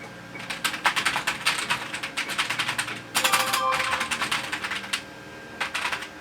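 Rapid typing on an Amiga computer keyboard, a dense run of close, crisp key clicks with a brief pause near the middle before the clattering resumes.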